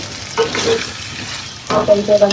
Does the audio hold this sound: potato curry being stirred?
yes